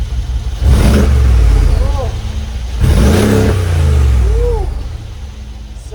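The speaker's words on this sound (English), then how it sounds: "Listen to what this car sounds like." Mercedes G-Wagon G500 engine revved twice from idle, each loud surge rising and falling back, heard up close with a brief exclamation from a person.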